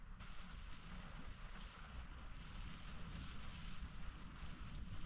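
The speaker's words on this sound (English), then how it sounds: "This rain is meant to ease off in about an hour and a half." Steady rain falls on an off-season hike on Mount Fuji, a dense continuous hiss mixed with wind buffeting the microphone, with no voices.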